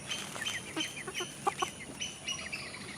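A rooster with shiny green tail feathers gives a few short, soft clucks and chirps over a steady outdoor background hiss, fairly close and without talk.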